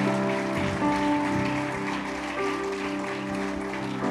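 Church congregation applauding during a Christian service, steady clapping throughout under sustained organ or keyboard chords and some background voices.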